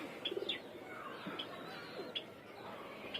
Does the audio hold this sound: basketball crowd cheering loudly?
no